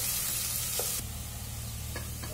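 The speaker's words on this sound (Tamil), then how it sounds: "வெங்காயம் சேர்த்து லோ ஃப்ளேம்ல வச்சுக்கிட்டு இதை வந்து ஒரு ஒரு நிமிஷத்துக்கு வந்து நல்லா வதக்கி விடலாங்க." Onions sauté in a pan over a low flame, giving a close, even sizzle with soft stirring scrapes and no voices.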